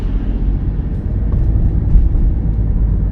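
A train rumbles past near a road in Busan, heard from inside a car during a road driving test as a loud, steady low drone with no speech.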